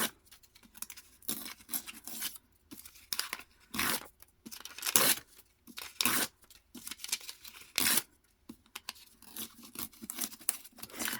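Paper being torn out of a small handmade notebook with coffee-dyed pages: repeated short ripping and crinkling bursts, close and fairly loud, coming in uneven pulses with quiet gaps between them and no talking.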